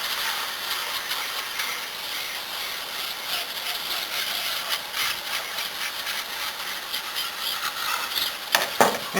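Water spraying over a cleaned air conditioner coil in a shop, a steady hissing, splashing wash that runs without a break, with a few sharper clatters near the end.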